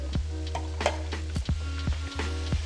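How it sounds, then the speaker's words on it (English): Garlic and sun-dried tomatoes frying in a pan, a steady bright sizzle running throughout, punctuated by several sharp clinks and taps of a utensil against the pan at irregular intervals. "we're gonna let that fry for about a minute"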